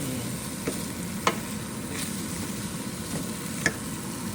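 Assorted vegetables cooking in butter in a pan, a steady close sizzle and fry with a few soft stirring taps, no voices.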